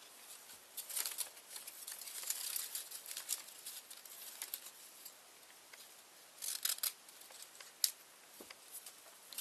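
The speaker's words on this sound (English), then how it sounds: "So I'm just going to snip that off real quick." Scissors snip through paper strips while a paper staple heart wreath is trimmed, giving a string of soft, crisp cuts and rustles up close, some sharper clicks standing out near the end, with no talking.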